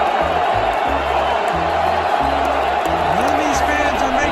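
Artificial crowd cheering piped through an NFL stadium at a Rams game, a steady, loud wash of roar with no distinct peaks, with a voice talking over it.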